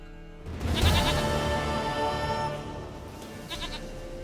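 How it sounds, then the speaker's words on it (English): A goat in The Witcher game bleats loudly and close over a busy game ambience, a quavering call that swells early and fades, with a second shorter bleat near the end. "Goat of mine, dearest, sweetest goat."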